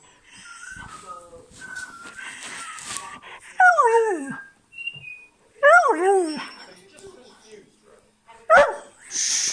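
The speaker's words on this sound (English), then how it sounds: "No barking." A dog barks and yelps in a few sharp, whiny bursts close by, with a person talking softly in between.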